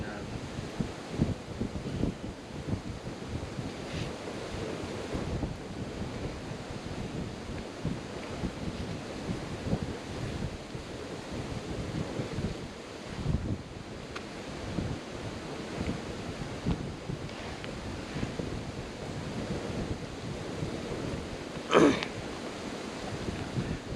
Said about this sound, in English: Wind is really picking up here, so I've just started to move the windbreak.